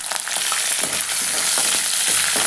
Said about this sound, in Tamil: அதை சேர்த்துட்டு அந்த கடலைப்பருப்பு உளுத்தம்பருப்பு நல்லா சகவக்கிற அளவுக்கு நம்ம வறுத்துக்கணும்.